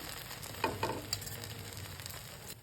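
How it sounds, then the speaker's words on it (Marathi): Pav buns sizzle with a little oil on a hot griddle for hotel-style pav bhaji, a steady close frying hiss with a few soft taps and no voices. "या पद्धतीने मी पाव गरम करून घेतलेले आहेत"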